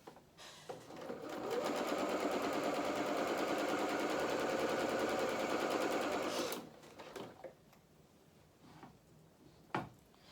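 A sewing machine stitches a dress panel in one loud, steady run of rapid needle clatter lasting about five seconds, then stops, leaving quiet handling noises and a single sharp tap near the end.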